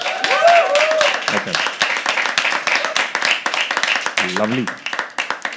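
Audience at a live poetry open mic at The Habitat claps and cheers loudly and steadily throughout, with a voice speaking briefly over the crowd noise.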